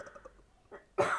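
A little girl gives a single short, sharp cough close to the microphone at the end, preceded by faint breathing and murmuring sounds in a quiet room.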